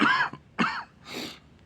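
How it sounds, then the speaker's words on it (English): Three rough, hacking coughs in quick succession, close and fairly loud, with short quiet gaps between them. "haggard coughing"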